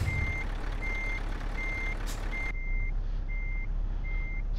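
Truck reversing alarm in a driving video game, a steady series of evenly spaced electronic beeps while the vehicle backs in, over a constant engine hum with no talk.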